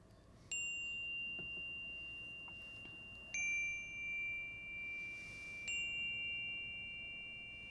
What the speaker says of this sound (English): We'll invite our chime to sing.